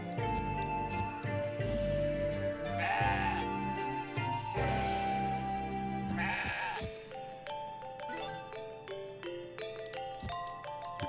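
Goat kid from the video game CrossCode lets out a run of loud, close, quavering bleats over game music, then the bleating stops and only the music and scattered chimes carry on.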